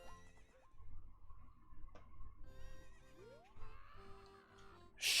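A horse whinnies in The Legend of Zelda: Ocarina of Time, a drawn-out, wavering neigh over soft game music and clip-clopping hooves, ending in a sudden loud burst of noise.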